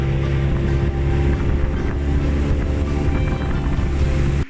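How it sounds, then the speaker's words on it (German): A fast Soviet-era motorboat from the Khrushchev years crossing the Irtysh river, its engine a loud, steady drone with wind and water rush throughout, running alone without talk. "Mit einem schnellen Motorboot der Sowjetunion-Zeiten, aus der Zeiten von Nikita Chruschtschow, sind wir gemütlich"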